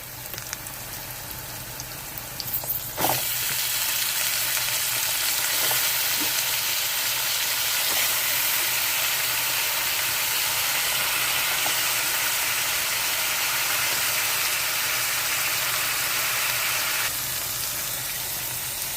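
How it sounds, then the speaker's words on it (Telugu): Onions and green peas frying in a pan as brinjal is added, a steady loud sizzle that starts after a brief clatter and hisses on evenly throughout, with no talking. "వేగిపోయినాయండి ఉల్లిపాయలు బఠానీ కూడా ఇప్పుడు వంకాయ వేసుకుందాము"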